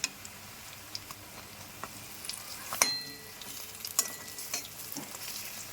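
Bok flower fritters coated in gram-flour batter fry in a kadai, giving a soft continuous sizzle broken by scattered clicks and scrapes as the pieces are flipped.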